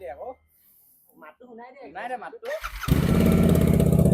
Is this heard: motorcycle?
yes